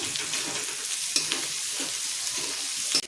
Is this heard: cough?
no